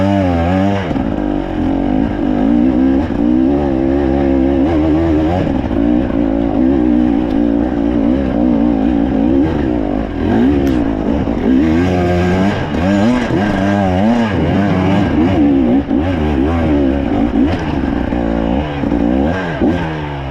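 A KTM dirt bike engine runs in third gear, revving and easing in continuous, fluctuating waves, loud and close throughout, with no talking.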